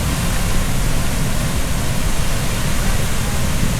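Water pours over the manmade waterfall at Dupinga River in Gabaldon, Nueva Ecija, a dense, continuous rushing hiss that is loud and close, with no voices.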